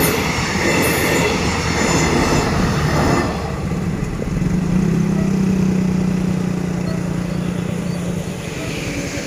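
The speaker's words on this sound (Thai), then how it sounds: "รถผ่านไปแล้วนะครับแต่เครื่องกั้นยังไม่ยอมขึ้นนะครับ" A Hitachi diesel train, unit 4520 hauling the southern special express 32, rolls past a level crossing, its loud continuous rumble and rail noise filling the scene before easing, with a drawn-out wheel squeal near the end.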